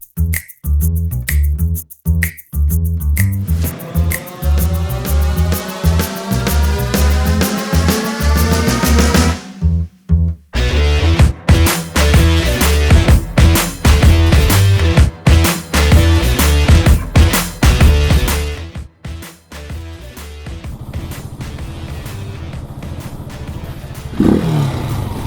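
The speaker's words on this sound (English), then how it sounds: "The Phoenix 250 that I will be test driving is a little bit modified" Janus Motorcycles Phoenix 250, lowered an inch and fitted with a different seat, being ridden: a loud, steady engine drone with revving surges and rough, broadband road and wind noise throughout, briefly dipping near the middle and end.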